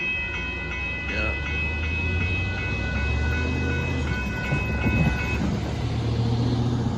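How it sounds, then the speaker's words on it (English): The northbound Amtrak Texas Eagle 22 passenger train passing at Dittmar Road in Austin, Texas, with a steady close rumble and rail noise, tonal squeals drifting through and a low drone throughout. "there goes the northbound Amtrak Texas Eagle 22 train going by"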